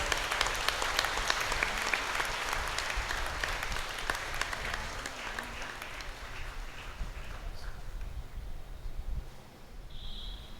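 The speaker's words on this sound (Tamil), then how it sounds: "பங்கு மக்கள் நீங்கள் அனைவரும் கரகோஷம் எழுப்பி பங்கு தந்தைக்கு ஒரு நிறைவான வாழ்த்துக்களை" A church congregation at a Pentecost Mass in Chennai applauds the parish priest, a steady wash of many hands clapping at moderate distance that slowly thins toward the end, with a faint tone near the close.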